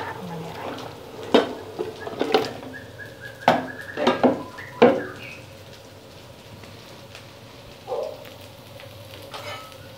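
Chicken pieces dropped into a pot of boiling water and stirred while cooking ayam ungkep, with several sharp clanks of a utensil against the pot in quick clusters over a low bubbling simmer.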